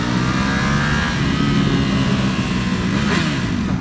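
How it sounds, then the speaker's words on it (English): A stock exhaust on a 2018 Ducati Panigale V4S motorcycle revs hard. It makes a steady, loud mid-range engine drone at close range, with a slight rise in pitch near the end. "Let's see what the exhaust sounds like through here."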